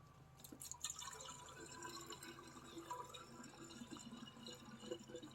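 Regular tap water is poured into the radiator of a 2005 GMC Sierra 1500 pickup truck, giving a steady trickling and dripping splash that is soft and close throughout.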